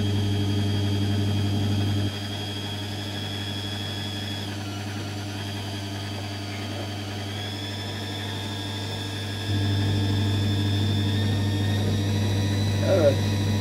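A 500 W wind turbine alternator spinning, a steady mechanical hum and whine with a constant low tone whose pitch steps up partway through as the speed is raised, with someone talking over it.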